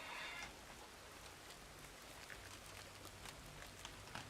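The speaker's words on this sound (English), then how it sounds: "It's raining." Rain in the Farmers Dynasty farming game, a quiet, steady hiss of falling rain with scattered soft droplet taps and no voices.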